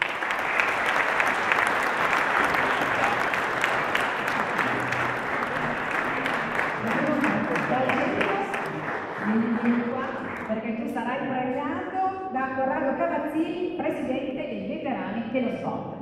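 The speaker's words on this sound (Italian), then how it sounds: "Un bel applauso all'attaccante del Parma" Strong, sustained applause from an audience at an awards ceremony honoring a Parma football striker, dense and loud at first, then thinning as a voice starts talking over the fading claps.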